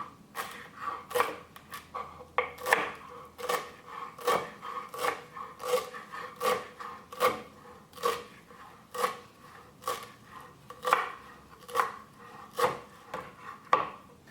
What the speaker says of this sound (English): now I'm just going to chop this finely